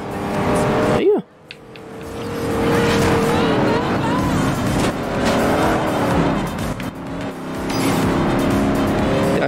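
A Dodge Challenger roars in pursuit of a Lamborghini Diablo during a Forza Horizon race, its loud engine droning steadily with a sharp tire chirp and brief revving dip early on, while someone talks over the action.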